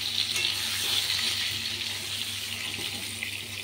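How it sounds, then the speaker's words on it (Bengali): Potatoes fry in oil in a kadai with panch phoron and bay leaf, giving a steady, soft, continuous sizzle close by. No one speaks. "কড়ার মধ্যে তেলে পাঁচফোড়ন আর তেজপাতাটা ফোড়ন দিয়ে আলুটাকে ভেজে নেবো ভালো করে"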